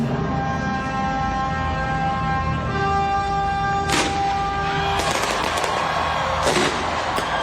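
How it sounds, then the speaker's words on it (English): Fourth of July fireworks burst in a few loud pops and crackles over music playing in the background. "smaller fireworks displays in communities across the nation"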